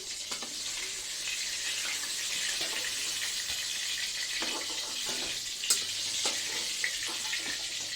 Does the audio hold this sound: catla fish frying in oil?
yes